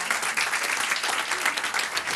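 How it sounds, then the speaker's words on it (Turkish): Lively clapping from a small quiz night audience, close and fairly bright, with uneven bursts and a few voices mixed in beneath the applause. "Filtresiz girls'ü de bir alkışlayalım."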